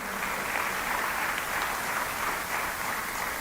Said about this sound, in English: Welcome, big round of applause.